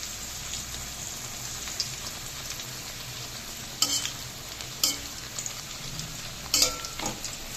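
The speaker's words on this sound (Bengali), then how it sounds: "কচু ভাজাগুলো আবার একটু উল্টে পাল্টে দিচ্ছি।" Taro pieces frying in oil, a steady close sizzle with occasional louder scraping bursts as the pieces are turned over, no voices.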